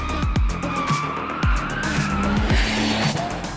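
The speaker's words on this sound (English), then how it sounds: "let's try these brakes. Here we go. All right, fully into the pedal." A new Ferrari Testarossa 849 brakes hard with the pedal pressed fully down. Tyres chirp and skid in short repeated bursts over a steady engine and road roar, loud and close from inside the car.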